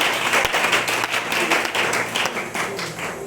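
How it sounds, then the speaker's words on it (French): A church congregation claps and cheers for the Lord during a sermon, dense steady applause filling the room with a few sharper individual claps standing out. "Est-ce que quelqu'un peut acclamer le Seigneur?"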